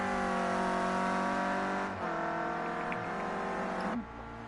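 A Clio Cup race car laps the Oschersleben circuit, its engine a loud, sustained high-revving whine with two sharp gear-change dips before the note drops away as it passes.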